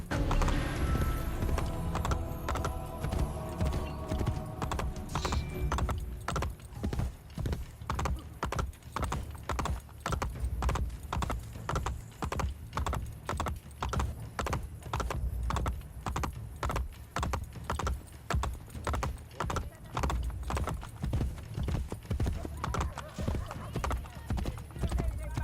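Horse hooves in Assassin's Creed Brotherhood gallop in a fast, steady clip-clop rhythm close up, running continuously across the whole stretch with game ambience underneath and no talk.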